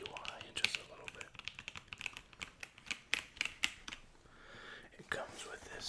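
Fingers type on a computer keyboard in irregular bursts of sharp, crisp clicks up close, with soft whispered speech and pauses between the keystrokes.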